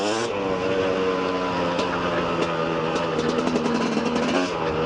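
A Mash 24 MX motorcycle idles and revs through a brand-new exhaust line with a resonant drone, the engine note rising and falling continuously and close up.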